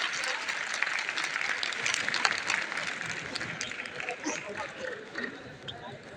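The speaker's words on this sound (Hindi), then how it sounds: "एक बार जोरदार तालियों से आपको।" A large crowd at an Azad Samaj Party political gathering breaks into loud, sustained applause, a thick wall of clapping with crowd noise and voices mixed in, easing slightly toward the end.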